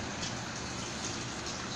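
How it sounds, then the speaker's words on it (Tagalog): Continuous, faint rain in Sakaka, Al-Jouf, with a steady hiss of falling drops and no distinct individual sounds. "umuulan na"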